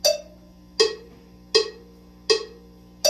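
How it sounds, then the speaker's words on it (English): A drum plays five steady quarter notes at 80 beats per minute, each a clear, ringing hit evenly spaced and close, with a short decay between strokes and nothing else heard. "Quarter notes at 80 beats a minute sound like this."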